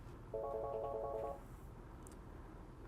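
An office desk phone on a teacher phone system rings with an inbound call to an extension, a single electronic warbling ring burst of about one second over a low room hum.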